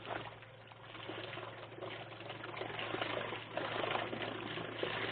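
A drill-powered trolling motor churns water in a continuous, rushing wash that swells slightly louder toward the end, heard alone without talk.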